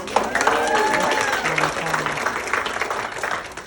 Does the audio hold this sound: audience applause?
yes